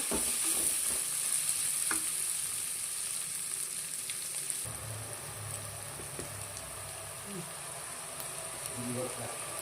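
Onions, green chillies and curry leaves fry in a pan for a bitter gourd dish, giving a steady close sizzle with occasional stirring clicks, a little softer after midway.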